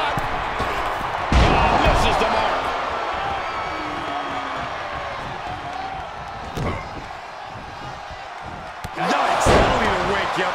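Heavy body slams crash onto the ring mat during a Rob Van Dam versus Goldberg one-on-one match in WWE 2K22, several loud thuds spread over an arena crowd roar, with a commentator talking throughout.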